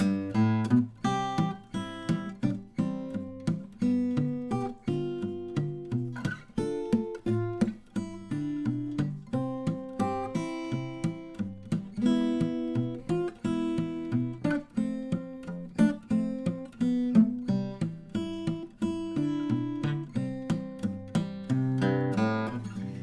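Fingerstyle acoustic guitar playing a song, an alternating bass thumb under a plucked melody in a bouncy steady rhythm, close and clean with no voices.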